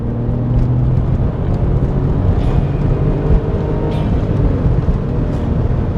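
A twin-turbo Porsche 996 Turbo accelerates hard on a two-lane road as its turbos spool, a loud, continuous rising engine roar from inside the car.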